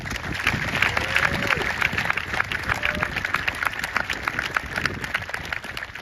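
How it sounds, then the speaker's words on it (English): Outdoor high school graduation crowd at Milburn High School applauding steadily under a tent, a dense wash of clapping holding level for several seconds. "I just want one last round of applause for those two."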